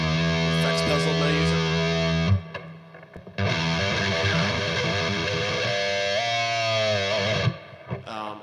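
An electric guitar played straight through an amp with reverb, EQ and gain, giving loud, distorted sustained notes and chords with a brief break partway through and a fading ring at the end.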